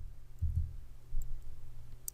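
A single faint mouse click near the end, confirming a software dialog in Wonderware Historian Client 2014, set against a quiet low hum with no talking.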